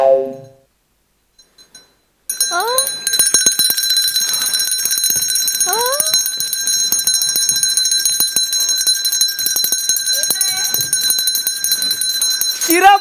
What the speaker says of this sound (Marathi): दरवाजावरची बेल कोणी वाजवली